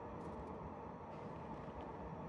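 Steady rumble of a crowded train interior in Final Fantasy VII Remake, a continuous low rolling drone with faint upper hiss, even and unbroken throughout, no voices heard.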